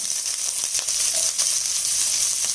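Cumin seeds splutter in hot oil with onion and green chilli, a dense close crackling sizzle with small pops and a brief stir, with no talking.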